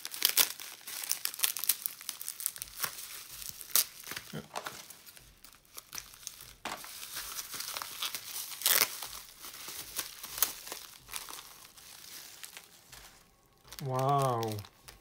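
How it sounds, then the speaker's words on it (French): Red tissue paper crinkles and tears as a package is unwrapped close up, with busy rustling bursts throughout and a voice speaking briefly near the end. "je vais ouvrir le premier paquet. Hop, donc dans du papier de soie rouge."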